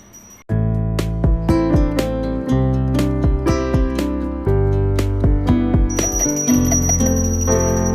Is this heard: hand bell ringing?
yes